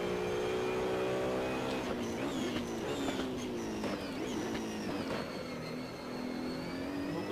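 Several race cars in Assetto Corsa roar past together, engines whining and shifting pitch as they brake and accelerate through a corner, a dense continuous engine drone with overlapping revs.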